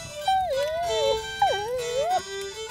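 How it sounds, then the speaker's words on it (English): A dog gives long, wavering howls and whimpers, three drawn-out rising and falling cries close by and fairly loud, with no talking over them. "And what about that dog?"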